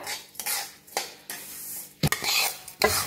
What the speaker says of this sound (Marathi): आता तीळ बी चांगलं भाजले बघा